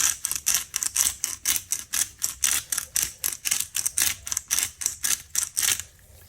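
Black pepper being ground over potato wedges, a steady string of sharp, close ratcheting clicks at about three per second that stops just before the end.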